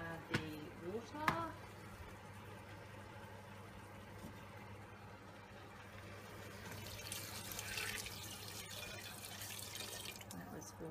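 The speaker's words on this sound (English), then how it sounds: "And I'm going to add the water." About four cups of water pour into a cooking pot holding thyme leaves, a soft, steady splashing that swells toward the end, heard faintly under a steady background hum after brief talk.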